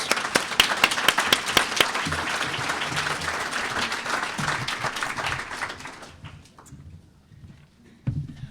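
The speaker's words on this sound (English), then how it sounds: "I just want to give the panel one last round of applause" A seated audience gives a panel a final round of applause after a session on science achievement, dense clapping that thins and fades out after about six seconds, with a brief rustle near the end.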